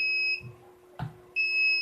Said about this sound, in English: That's why you're seeing the alarm here.